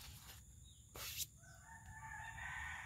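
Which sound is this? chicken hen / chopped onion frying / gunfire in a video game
chicken hen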